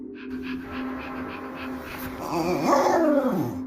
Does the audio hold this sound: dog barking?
yes